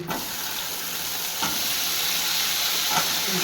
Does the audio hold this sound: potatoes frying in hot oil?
yes